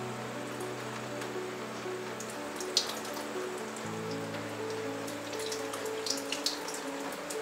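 Thin tomato liquid drips and trickles steadily through a food mill after straining, a soft, continuous patter of small drops with a few brighter splashes, fairly close and without talk.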